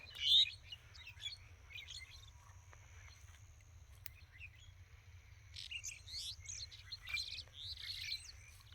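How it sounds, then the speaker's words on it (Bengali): Several birds chirp and tweet in short scattered bursts over an open field on a foggy winter morning, fairly distant and soft above a steady low rumble, with no talking. "পাখির কিচিরমিচির শব্দ সকালবেলায়"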